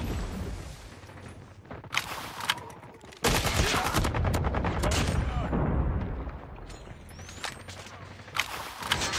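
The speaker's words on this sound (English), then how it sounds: "Like with this slow firing SMG." Bursts of Striker SMG gunfire in a video game, slow-firing shots mixed with other weapons and explosions, loud and near, with speech over parts of it.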